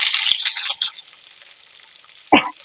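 Sliced onions frying and stirred for chilli paneer on high heat in a pan, a bright sizzle with clinks for the first second, then quieter hiss, ending in a short loud scrape near the close.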